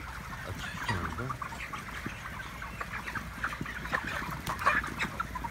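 Chickens on a chicken farm, housed in a covered shed on the last day before slaughter, cluck and squawk in a busy overlapping chorus, with scattered sharper calls rising over a constant low hum.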